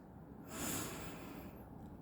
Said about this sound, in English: I want you to take a deep breath into the nose